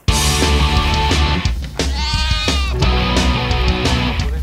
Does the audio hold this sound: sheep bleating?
yes